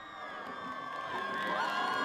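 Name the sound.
student section crowd cheering at high school football game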